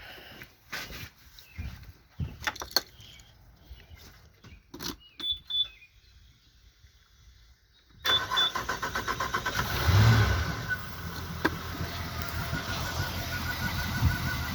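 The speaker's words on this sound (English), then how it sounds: "start the engine up" A Honda BF200 outboard engine on a boat starts after a few faint clicks and quieter mechanical sounds, then settles into a loud, steady running hum with a brief swell.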